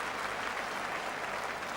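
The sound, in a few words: football crowd applauding a player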